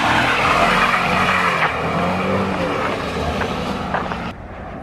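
A homemade convertible car loses traction on a cold road. Its tires skid and squeal over a loud, strained engine that sounds almost supercharged. The noise runs steadily for several seconds, then drops off abruptly near the end.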